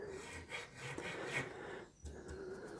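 A file rubs lightly over the front of a bone nut on a Rickenbacker 620/12 twelve-string guitar, making a close, soft rasping in several short back-and-forth strokes.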